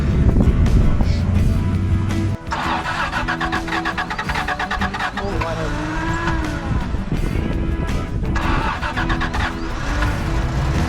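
A Toyota FJ60 Land Cruiser that had sat unused in a hole fires up, and its engine runs loud and rough close by, with a brief dip before it settles into a sustained rumbling idle.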